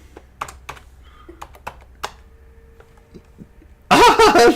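Someone types on a computer keyboard, a sparse run of separate, fairly close key clicks, followed at the end by a sudden loud burst of voice.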